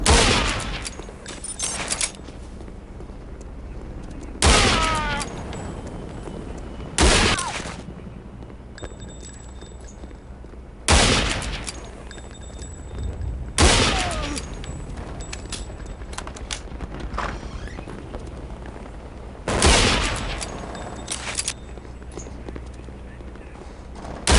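Bursts of gunfire in Counter-Strike: Condition Zero, several loud volleys spaced a few seconds apart, each a sharp dense clatter over a low steady game background hum.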